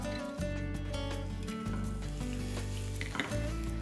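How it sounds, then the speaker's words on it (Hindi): Cumin seeds, chopped garlic and green chilli sizzle in hot oil as the base for methi paratha, a steady close frying crackle with occasional stirring clinks throughout. "जैसे ही जीरा गार्लिक और हरी मिर्च भूनना शुरू हो जाए"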